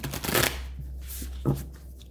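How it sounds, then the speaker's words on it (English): Tarot cards are shuffled by hand in two short riffling bursts, close and soft, with a quiet pause between. "I'm going to shuffle one more time."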